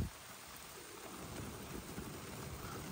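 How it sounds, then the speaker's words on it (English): Steady rain patters on a rooftop tent mounted on a Range Rover while camping, a continuous dense hiss of drops with no voices. "It's raining."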